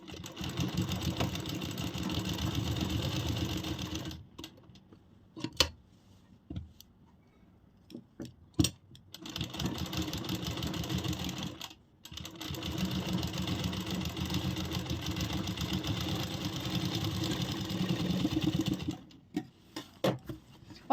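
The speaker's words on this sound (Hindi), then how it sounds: "अब हम इस पे सिलाई शुरू करेंगे एक साइड से।" A sewing machine stitches a straight seam along the edge of kurti fabric, running in two long steady bursts with a pause and a few handling clicks between them.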